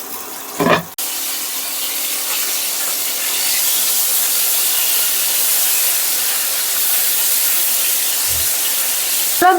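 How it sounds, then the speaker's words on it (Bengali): Bhetki fish frying in mustard oil in a kadai, a continuous hissing sizzle held at an even level, broken by a few brief clatters at the start and near the end, with no talk. "কি মাছগুলো প্রথমে ভেজে নিচ্ছি।"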